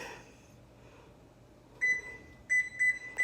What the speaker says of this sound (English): I usually time it. Timer.